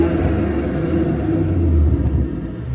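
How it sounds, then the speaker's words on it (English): A BMW B58 engine in sport mode runs loud and steady with a deep, constant rumble and induction roar from the air intake, heard up close from the front of the car with no talk. "Let's start this thing up so you guys can hear a little bit of the induction."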